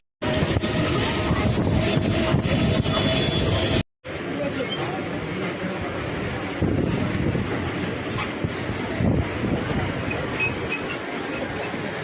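Steady rumble and rattle of a train running on rails toward Panvel, continuous and fairly loud with wind noise, briefly cutting out near the start.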